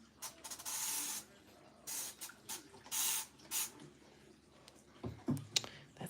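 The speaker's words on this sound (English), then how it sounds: "So let's spray her." A spray bottle of sudsy cleaner misted over a doll during cleaning: several short, close hissing bursts in an irregular rhythm, with quiet handling noises between them and a few soft clunks near the end.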